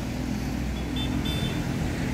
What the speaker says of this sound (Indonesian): Ya, masuk satu unit bus